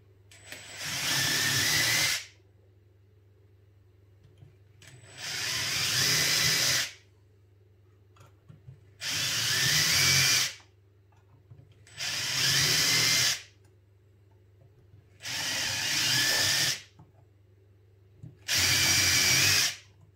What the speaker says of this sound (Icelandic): Og við erum eftir að bora hérna fyrir þessu.